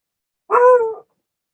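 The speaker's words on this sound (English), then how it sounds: "And my dog agrees." A single short dog bark, close and loud, standing alone against silence.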